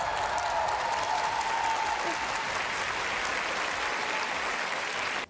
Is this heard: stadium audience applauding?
yes